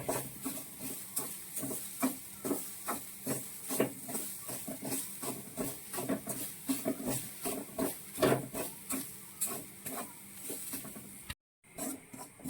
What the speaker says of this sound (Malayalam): നല്ല കുറഞ്ഞ തീയിൽ വെച്ച് ഇതിനെ ഒന്ന് നന്നായിട്ടൊന്ന് വറുത്തെടുക്കുക